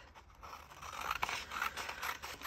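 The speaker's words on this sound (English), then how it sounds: "Let me get my scissors." Scissors snip and scrape through paper coin roll wrappers, a short run of close, crisp cutting and rubbing sounds with no talking.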